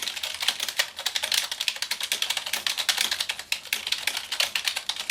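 Steady, fast typing on a cheap 1998 computer keyboard with a gummy, unresponsive feel: dense runs of soft clacking keystrokes, close and continuous with brief pauses, and no voices.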